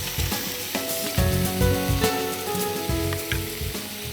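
Whisked yogurt poured into a hot pan of oil for a gosht kalia, sizzling and crackling loudly and continuously up close, with faint stirring and no voices.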